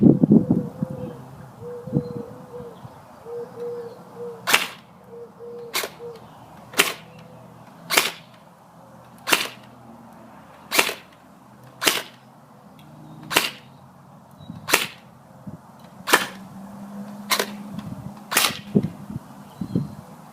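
An airsoft gun fires a series of test shots while comparing steel, aluminum and brass inner barrels with the hop-up set around 40%. About a dozen sharp, evenly spaced cracks come from close by over a low outdoor hum, with no talking.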